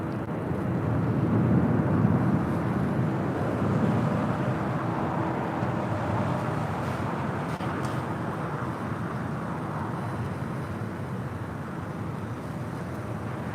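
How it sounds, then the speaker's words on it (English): A Japan Airlines Dreamliner jet airliner at LAX rumbles with a broad, steady roar that swells early and then holds at a fairly even level, heard from a distance across the airfield. "The Japan Airlines Dreamliner now heading over here to the south side."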